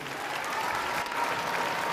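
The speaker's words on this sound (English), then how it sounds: "Give them a round of applause, please." A full round of applause from a crowd at a Veterans Day celebration, loud dense clapping that holds steady for the whole stretch.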